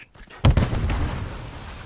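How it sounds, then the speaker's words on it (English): Stun grenade detonating in a video game: one sharp loud blast followed by a fading rumbling tail. "Throwing stun grenade!"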